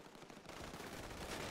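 Rapid gunfire in GTA 5 roleplay, a dense continuous burst of shots rattling loudly throughout with no gaps.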